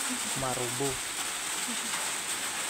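Steady rain falls outdoors as an even, close hiss that runs through the whole stretch, with a brief bit of talk over it early on.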